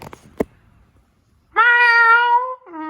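A cat meows loudly and close by in a long drawn-out cry, then starts a second shorter meow, following a few faint knocks and rustles indoors.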